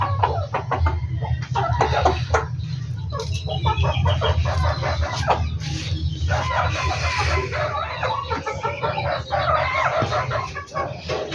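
Farmyard chickens clucking densely and close, with a rooster crowing among them, a continuous busy flock chorus without talk.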